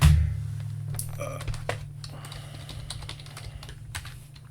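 Someone types on a computer keyboard in a room with a steady low hum from a running Bitcoin pod miner, with a short burst of close, quick keystrokes followed by scattered taps.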